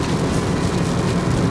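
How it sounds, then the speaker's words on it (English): Heavy rain drums and roars continuously over a twenty-year-old Saturn car driving on a highway during a hurricane, a dense, close wash of water and road noise with no talking. "Once again, we are hitting more rain."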